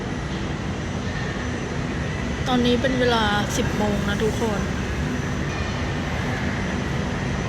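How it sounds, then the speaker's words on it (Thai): A metro train arrives at a station platform in the United States, a steady broadband rumble and hiss filling the whole stretch while a person talks over it. "อีกฝั่งหนึ่งรถไฟฟ้ามาแล้ว"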